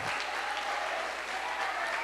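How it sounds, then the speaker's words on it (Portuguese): A church congregation at a women's celebration breaks into steady, dense applause that fills the whole moment, with no voices rising above the clapping. "Você pode aplaudir o Senhor?"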